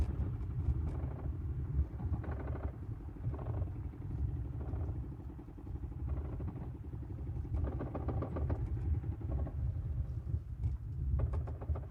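Military vehicles roll forward in a lined-up column during the Defender Europe 25 exercise, their engines giving a steady low rumble with intermittent clattering and rattling passes, moderately loud and continuous throughout.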